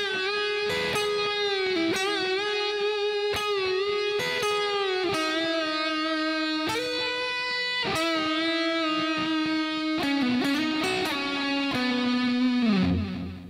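A distorted electric guitar plays the opening section of a solo, with sustained, singing lead notes, bends and slides, loud and close, with no talking.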